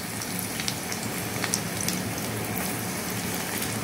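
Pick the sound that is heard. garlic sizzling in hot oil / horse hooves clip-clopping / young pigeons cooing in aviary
garlic sizzling in hot oil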